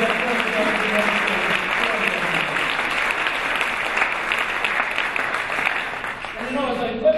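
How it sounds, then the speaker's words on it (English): Audience applause fills a huge room at an awards gala, sustained and dense for several seconds before thinning out, with a voice breaking in near the end. "So you give him a round of applause, too"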